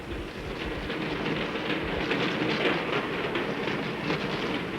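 A train climbing steeply toward a plateau near Lake Titicaca rumbles steadily along the rails, a dense continuous roar with faint rhythmic clatter, close and loud throughout.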